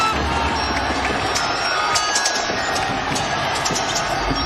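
Basketball dribbling during a 2021 NBA playoff game between Atlanta and Milwaukee, with Trae Young handling the ball, steady bounces under a loud, continuous arena crowd roar.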